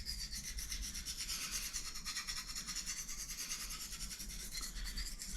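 A kitchen knife blade stroked steadily across an oil stone, a continuous dense rasping scrape with fast, even back-and-forth strokes, close and alone with no voices.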